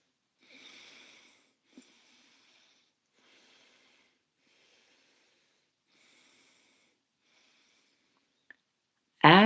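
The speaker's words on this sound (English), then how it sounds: "Close the other nostril, breathe out," Breathing through the nose one nostril at a time, as in alternate nostril breathing: a few soft, airy exhalations and sniffing breaths come in separate bursts with quiet gaps between them, close to the microphone.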